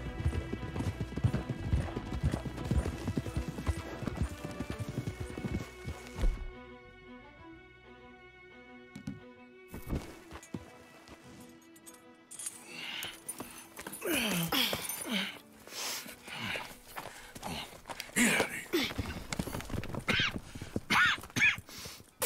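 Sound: horses galloping in Red Dead Redemption 2 video game

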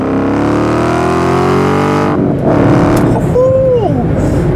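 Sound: Ford Mustang GT 5.0 engine revving

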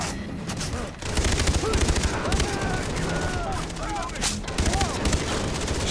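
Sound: gunfire in the video game Far Cry 3

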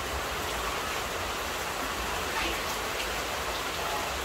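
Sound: rain

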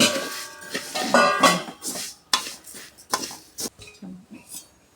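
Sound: cumin seeds being added to a pan for roasting

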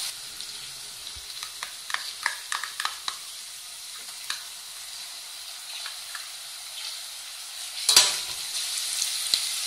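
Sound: onion and ginger garlic paste sautéing in pan

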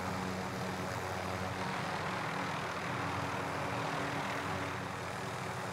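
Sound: aircraft engine in video game Warzone

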